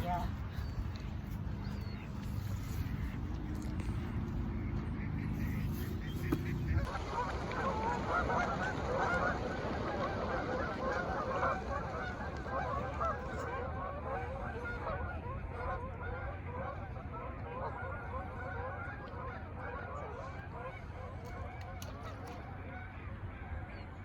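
Many geese honk continuously alongside ducks and seagulls at a busy city lakeside waterfront in Barrie, a dense, noisy flock chorus running throughout while people talk nearby.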